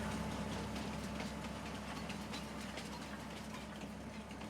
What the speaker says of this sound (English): There's our first train.